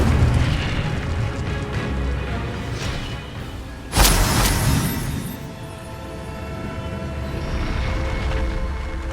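Incendio fire spell cast in Hogwarts Legacy, a sudden booming burst of flame that flares sharply mid-clip over a steady dense game ambience and then fades back into a rumbling background.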